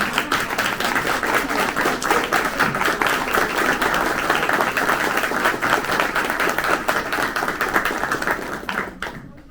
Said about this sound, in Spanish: les brindamos un aplauso muy fuerte